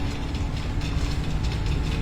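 A little toy train in The 7th Guest VR game runs along its track with a steady low rumble and soft clickety-clack, continuous and close with no voices.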